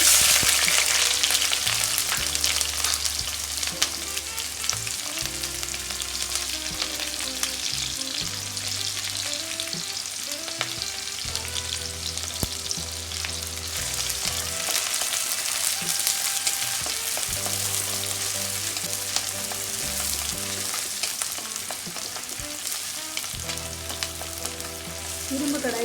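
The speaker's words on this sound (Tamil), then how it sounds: "இரும்பு கடாய் சூடாயிடுச்சுன்னா சீக்கிரம் நல்லா வதங்கிடும், நல்லா ட்ரையாக ஃப்ரை ஆகும்" Onions fry in a hot iron kadai with a steady, dense sizzle that runs unbroken, close and fairly loud, with tonal background music playing underneath.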